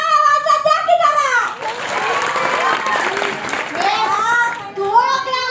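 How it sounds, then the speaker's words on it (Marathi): An audience claps after a dance performance, a sustained burst of applause loud and close, with voices talking over it before and after. "टाळ्या वाजवा, द्या की जरा."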